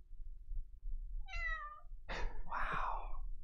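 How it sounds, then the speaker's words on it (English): A cat gives two close meows over a quiet background: a thin, wavering cry first, then a louder, rougher meow that follows after a short pause. "Cat sound."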